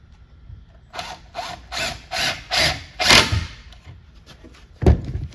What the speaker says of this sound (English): when I do my second pre-drill,